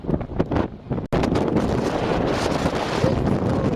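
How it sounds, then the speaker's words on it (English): Strong wind buffets the microphone on the Twelve Apostles coast in Victoria, Australia, a loud, constant roaring rumble after a brief dropout near the start, with nothing else audible. "standing here in the wind"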